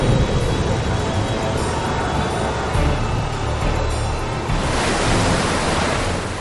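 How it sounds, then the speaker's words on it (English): Flood water roaring down mountainsides into valleys: a dense, steady wall of rushing torrent noise, loud and continuous throughout, with no speech. "Wild water rages down the mountainsides and roars into the valleys"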